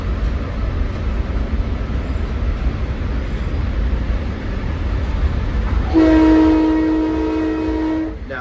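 A Long Island Rail Road train runs past near Hicksville with a steady rumbling roar, then a loud, sustained multi-tone horn blast sounds close by for about two seconds before fading.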